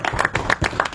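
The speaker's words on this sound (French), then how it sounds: "Est-ce qu'on peut au moins applaudir pour les ambassadeurs?" Scattered claps from an audience applauding the ambassadors at a gathering of an artists' association movement, a few irregular hand claps repeating close by over the second, mixed with faint crowd murmur.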